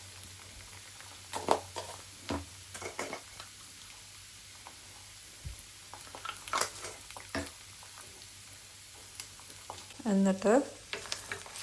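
Eggs are scrambled in a frying pan for egg fried rice, with soft sizzling under repeated scraping and tapping strokes of a spatula at irregular intervals, a louder clatter near the end, and a voice speaking briefly.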